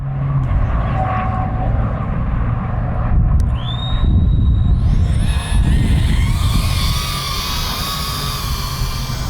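An iFlight Titan DC2 cinewhoop FPV drone flying in wind: a high, whining propeller buzz rises in pitch and stays near and strong, with wind rumble beneath throughout.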